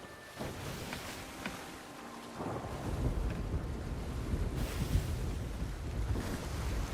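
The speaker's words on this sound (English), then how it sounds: "Waves are rough." Rough ocean waves in the Sea of Thieves pirate game churn and wash steadily around a small sailboat, with wind rushing over the sea and a soft creak at the start, and no voices.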